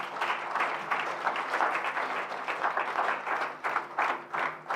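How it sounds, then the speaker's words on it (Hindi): An audience at a direct selling seminar applauds, with dense, lively clapping that swells and wavers for several seconds and no talk over it. "तो एक बार जोरदार तालियां इतने सारे लोगों के लिए।"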